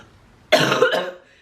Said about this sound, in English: as soon as I press the record button, I start going to a coughing fit right on time.